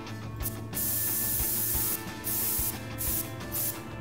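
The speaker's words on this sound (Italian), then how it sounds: "Devi usare spray." Spray cleaning in the video game Prison Simulator: several bursts of bright hissing spray, each lasting about half a second to a second, separated by short gaps over a low game hum, loud and without talk.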